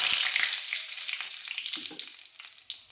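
Fennel seeds and two dried red chillies crackle and sizzle in hot oil for tomato rice, a dense, steady frying hiss with a few sharp pops and light stirring taps close by.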